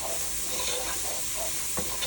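Onions and mushrooms saute in a pan, giving a soft, steady sizzle and hiss close by, with a brief stir or utensil scrape near the end.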